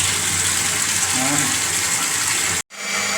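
A repaired automatic household water pump pushes water out at pressure: a loud, continuous close-up gush that suddenly cuts off for a moment near the end and then resumes.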